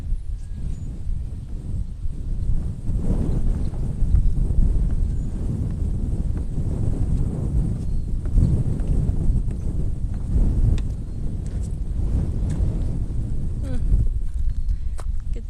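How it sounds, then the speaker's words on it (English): Strong wind buffets the microphone over open canola fields in a Canadian village, a loud, continuous rumbling gust with thumps and rustles and no clear talk. "Look at how windy it is."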